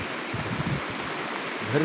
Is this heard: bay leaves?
no